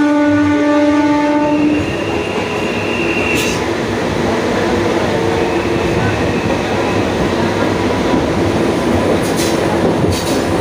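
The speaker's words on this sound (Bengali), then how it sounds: "ট্রেনটাও যাচ্ছে, আমাদের ট্রেনটাও যাচ্ছে। আমাদের ওভারটেক করে দেবে।" Trains near Howrah, heard from on board as another train draws alongside and overtakes. A horn sounds loudly at the start, then a steady rumble and rhythmic clatter of wheels on rails continue, close and loud, with faint voices.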